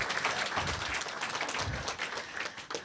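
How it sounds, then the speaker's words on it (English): Applause from a campus diversity event audience, dense steady clapping of a moderate-sized crowd heard from within the room, lasting throughout at even intensity. "let's have one more round of applause for Michael."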